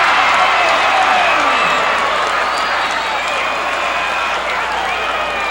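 A capacity crowd of 11,300 at a wrestling arena in the Coliseum roars in a loud, dense, continuous din of cheering, shouting and clapping that holds steady from start to finish.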